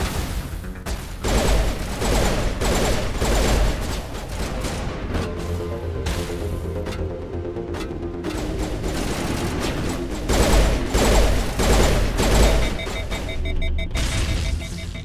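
Dense, loud gunfire from a weapon in Mass Effect: Legendary Edition, sustained rapid shots and heavy impacts with booming bursts throughout, no talking over it.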